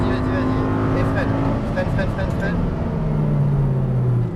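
Audi R8 V10 accelerating around a racetrack, a loud, steady engine roar with rising tone under in-car talk throughout.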